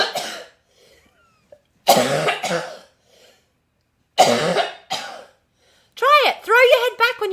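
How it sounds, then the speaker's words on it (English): A person coughs in several loud, harsh bursts separated by short pauses, close to the listener, with speech following at the end. "Throw your head back when you cough."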